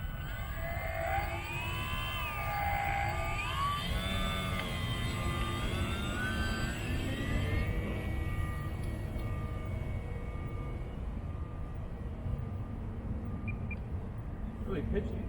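A custom blue and orange Hobby Town RC model airplane flies overhead with a whining motor that rises and falls as it climbs and dips, and fades into steady wind and background noise.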